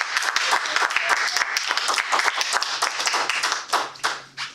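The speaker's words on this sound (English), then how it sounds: "So big round of applause for Veda Royale." Applause for a Toastmasters evaluator at a club meeting: a dense, close burst of hand clapping from a small group, steady for several seconds and thinning toward the end.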